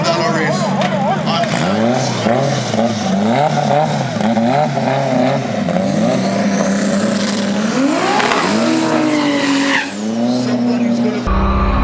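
A 2JZ GTR and an all-wheel-drive K-series race car roaring in a Jamaican street race, engines revving hard with repeated tire squeals and skids, loud and close, with a crowd and voices shouting underneath.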